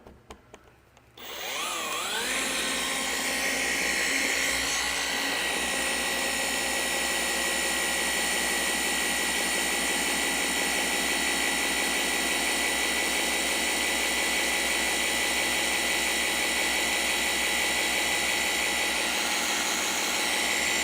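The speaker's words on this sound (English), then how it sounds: "Only pressure from my thumb, guiding the polisher." A machine polisher runs steadily on soft, neglected black car paint, a continuous loud whirring drone that starts after about a second of quiet and holds at a constant mid speed without talk.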